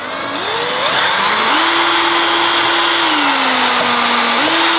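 Power drill boring holes into cast iron for a homemade lawn aerator, a steady loud whirring motor whose pitch rises and dips under load, running continuously with no talk.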